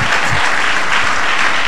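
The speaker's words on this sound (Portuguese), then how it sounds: "eu gostaria que você aplaudisse ao Senhor bem forte" Loud, dense applause from a church audience at a theology conference, a steady wash of many hands clapping with no break, close and filling the space.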